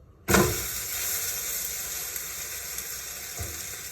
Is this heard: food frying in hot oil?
yes